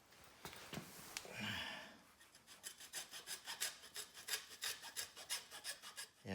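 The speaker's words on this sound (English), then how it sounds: "A hacksaw." Hacksaw cutting a rubber power steering hose on a 1994 Mercedes C280 W202, a few tentative strokes and then a steady rhythmic back-and-forth rasp, close but fairly quiet.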